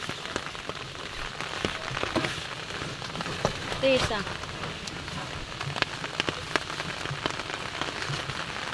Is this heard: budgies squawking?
no